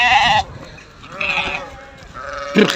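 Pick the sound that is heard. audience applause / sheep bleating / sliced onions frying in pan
sheep bleating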